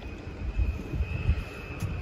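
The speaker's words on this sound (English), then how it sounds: "Sound like an airplane taking off." Steady low engine rumble with a thin high whine running throughout, like a jet or aircraft engine spooling up, loud and continuous with no voices.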